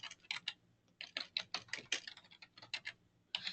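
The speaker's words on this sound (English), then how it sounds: "So I'm just typing principal reduce." Keys on a computer keyboard are tapped in quick, uneven bursts, close and quiet, with short pauses between clusters of clicks and no talking.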